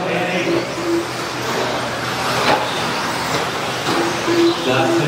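A pack of 1:10 off-road modified stadium trucks races at a national event, a thin whining cluster of small electric motors rising and falling at middle distance under continuous race commentary.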